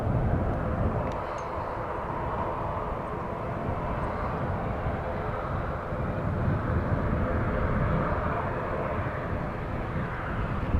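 A JetBlue airliner takes off from Dublin Airport, its engines a steady, broad roar that stays loud and even throughout with no talk over it.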